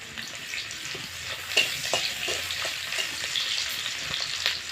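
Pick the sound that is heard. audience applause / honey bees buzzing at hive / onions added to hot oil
onions added to hot oil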